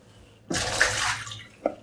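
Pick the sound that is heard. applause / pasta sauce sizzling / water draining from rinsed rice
water draining from rinsed rice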